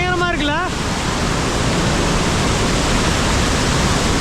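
Powerful roar of water at the Hogenakkal falls pouring through a rocky channel, loud and continuous, with a brief voice over it at the start before the rushing water carries on alone.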